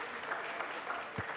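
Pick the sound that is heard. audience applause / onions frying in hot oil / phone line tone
audience applause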